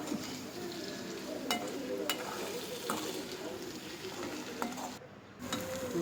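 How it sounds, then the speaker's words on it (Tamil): Cooked rice being stirred into sizzling potatoes in a pan, a steady fry under repeated scraping strokes and light clinks of a spoon against the metal, close by with faint background voice. "இப்போது சாதத்தை நல்லா கிளறி விடலாம்."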